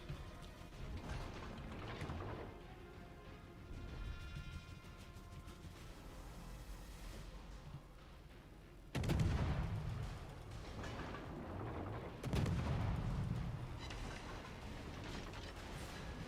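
A Z-52 destroyer in a naval video game launches torpedoes, heard as mechanical clanks and ratcheting followed by two sharp, heavy launch bursts around the middle and later, over a low rumbling ambience.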